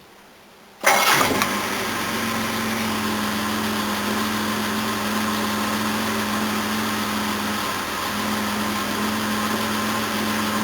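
A Jaguar XJ6 engine with high compression cranks and catches after a brief silence, then settles into a steady, even idle that carries on unbroken and close, with no talking.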